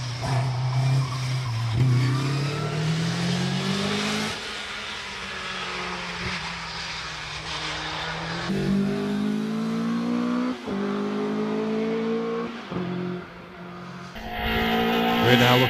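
Hillclimb race car at Loton Park during the British Hillclimb final, engine howling and rising through gear changes as it blasts across the finish line close by, with a commentator talking over it.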